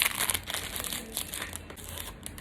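A plastic bag of thyme biscuits is crinkled and torn open close up, giving a burst of sharp crackling at first and then lighter rustling with no talking.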